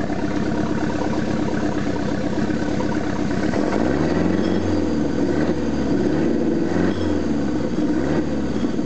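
A rebuilt Mercruiser 3.7L marine engine idles steadily, then revs up in several rising and falling surges, a deep throaty roar close by with no talking.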